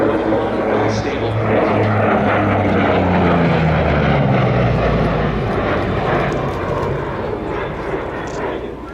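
A Lockheed P-38 propeller fighter flies past at the Oshkosh airshow, its engines droning loudly with a rising and falling pitch as it passes, while voices talk beneath the roar.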